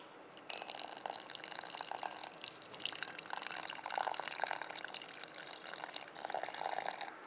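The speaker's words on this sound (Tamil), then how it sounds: "இது கூட செப்பு பாத்திரத்தில் வச்சுருந்த தண்ணீர் 1 லிட்டர் அளவுக்கு சேர்க்கணும்" Water from a copper vessel pours into a home remedy mixture, a continuous faint splashing trickle with small surges, alone and close.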